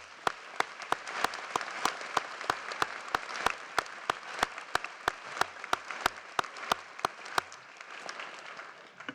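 Audience applause fills a hall at an honors convocation, a steady wash of many hands clapping with a few sharp louder claps standing out on a regular beat, then tapering off toward the end.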